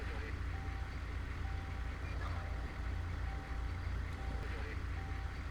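Regular electronic beeping of a fire truck reversing in a video game, evenly spaced tones over a steady engine rumble, with voices faintly in the background.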